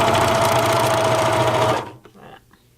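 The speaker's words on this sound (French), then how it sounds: "je vais coudre jusqu'à mon point droit, puis je vais sortir" Domestic sewing machine stitching a jacket seam straight to the edge, a loud steady whirring hum for almost two seconds that stops abruptly, leaving a few soft handling clicks.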